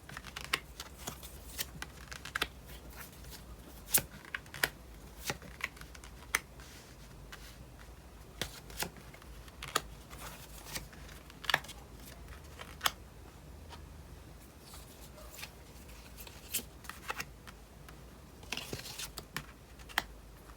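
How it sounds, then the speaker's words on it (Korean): Tarot cards being drawn and laid out on a table, twelve in all: a long run of soft, scattered paper slides and light taps close by, with quiet gaps between them and no talking. "총 12장의 카드를 뽑아보도록 할게요."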